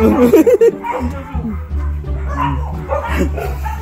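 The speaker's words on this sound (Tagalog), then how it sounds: "Aso." A dog barks and yips near a house as visitors arrive, several short bursts at the start over steady background rumble and voices.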